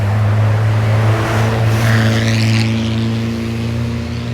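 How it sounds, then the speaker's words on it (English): Heavy road traffic along Barbados' west coast beachfront, buses rumbling past close by in a loud, steady engine drone that swells and fades without a break. "Buses."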